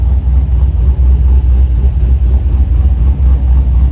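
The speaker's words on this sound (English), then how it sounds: "Just the idling sound is so good." Close, loud idle of a cammed LS V8 in a Corvette C6 Z06, a deep, choppy burble pulsing steadily without any revving.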